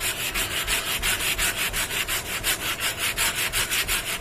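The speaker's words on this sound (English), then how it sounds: "We're going to do the best we can with the hand sander" A hand sander works over wood in quick, even back-and-forth strokes, a close raspy rhythmic scratching at about four strokes per second with no talk.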